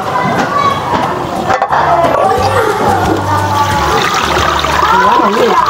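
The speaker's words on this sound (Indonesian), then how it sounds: "Setelah kedelai direndam selama semalaman, air rendaman kedelai akan kita buang." Water from soaked soybeans is poured out, a steady trickling, splashing stream running throughout over a busy background with some voices.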